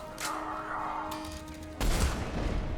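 Gunfire in the Mass Effect 3 video game, a steady burst of shots from one side that jumps louder and denser partway through, with no talk.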